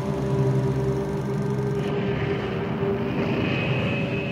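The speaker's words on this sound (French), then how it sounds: "Ensuite, il envoie des Stuka pour les bombarder." Propeller aircraft engines of German Stuka dive bombers drone steadily, a loud continuous rumble with a sustained tonal hum and no voices.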